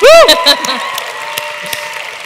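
Audience applause at a panel event, loud at first and quickly fading into scattered claps and a murmuring room.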